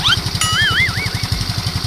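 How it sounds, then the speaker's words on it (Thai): A four-stroke engine idles smoothly and quietly after repair, its exhaust smoke cured, with a steady, even low thump running throughout; a high warbling whistle sweeps briefly over it. "เงียบกริบเลยนะครับเครื่องยนต์"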